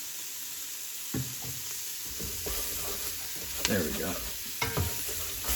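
Sweet potato curry being stirred in a pan with added oil, a steady soft sizzle under scraping utensil strokes and occasional knocks against the pan, close up, with a brief spoken remark.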